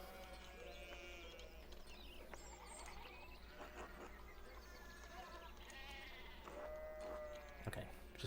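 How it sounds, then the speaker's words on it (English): Sheep bleat faintly among other distant farm animal calls in the Pentiment video game, a few wavering cries over a steady low ambient hum. "Sheep are all up in the way."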